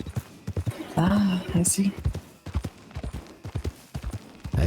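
Steady clip-clop of horse hooves on a dirt trail in the video game Red Dead Redemption 2, with a short neigh partway through and people conversing over the rhythmic footfalls.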